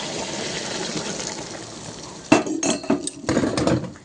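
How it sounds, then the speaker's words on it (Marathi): Water pours into a cooking pot for pea pulao, with a splash partway through, followed by clinks and knocks of metal cookware, all fairly close with no talking. "इथे 1 तांब्या पाणी घेतलेले, पाणी घालून घेऊया."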